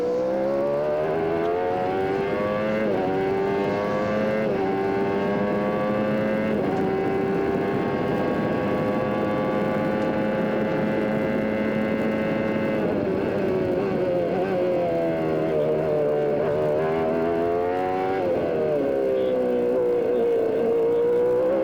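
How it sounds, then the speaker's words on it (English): A 1994 CART IndyCar race car at Mid-Ohio, heard onboard: a loud, continuous engine howl rising and falling as the driver shifts through the gears, with no talk over it. "Listen to those gear changes."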